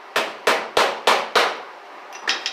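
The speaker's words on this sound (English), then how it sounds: "Take the old body hammer." A body hammer strikes a steel fuel line on a 1955 Chevy gasser build in five sharp, evenly spaced metallic taps, followed by a few lighter, quicker knocks.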